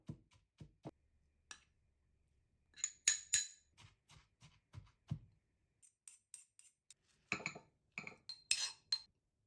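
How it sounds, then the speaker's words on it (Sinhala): Grated coconut with chillies and pepper is pounded in a mortar, with sparse dull thuds and sharper clinks in uneven bursts, close and fairly quiet against near silence. "ඊට පස්සේ මේකට පොල් ටික දාලා හොඳට කොටා ගන්න ඕනේ"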